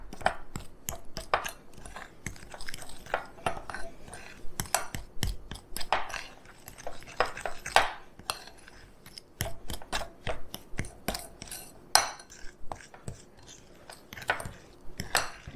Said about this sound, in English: So I'm just going to mix these around a little bit.